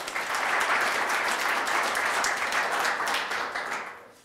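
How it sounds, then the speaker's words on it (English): Applause rises from an audience at a 2018 university sustainability celebration as a facilities vice president is called up to speak, a dense, steady clapping that holds for a few seconds and then fades. "Round of applause for Tim."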